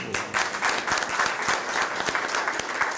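A room of people applauds at a staff recognition and retirement ceremony, a dense, steady patter of many hands clapping close by with a few sharper individual claps standing out, no talking over it.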